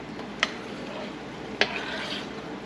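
Pork stock in a pot is stirred with a spoon, producing a low, steady swishing under two sharp, distinct clinks of metal against the pot rim.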